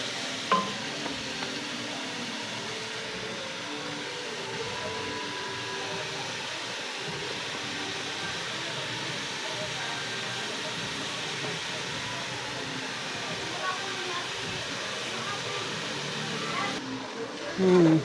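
Salted vegetables are stirred in a frying pan, a soft continuous sizzle broken by scraping and clattering strokes of the spatula, close up, while someone talks intermittently over the cooking.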